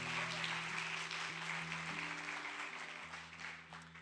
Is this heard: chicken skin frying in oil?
no